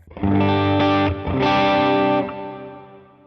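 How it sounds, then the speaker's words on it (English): Electric guitar chords ring out loud with a distorted tone through two amps straight into a reverb, struck twice, then a long reverb tail fades away into quiet. "So this is just the 2 amps straight into a reverb, and this is what it sounds like."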